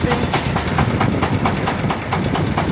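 Scout 404 tractor raking hay in a field, a steady rattling engine drone with rhythmic clattering pulses, close and continuous.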